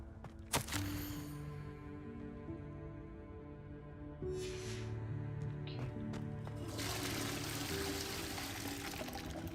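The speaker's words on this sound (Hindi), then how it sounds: "फ्लश भी है भाई." A toilet in the Hogwarts Legacy video game flushes with a sustained rush of pouring, gurgling water that swells partway through, heard over steady game background music and ambience.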